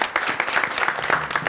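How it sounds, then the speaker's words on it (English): Audience clapping for a young contestant at a children's spelling quiz show, a short burst of brisk, crisp claps close by with audible individual hand strikes. "Let's give a round of applause."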